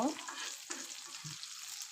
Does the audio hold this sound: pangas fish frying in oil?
yes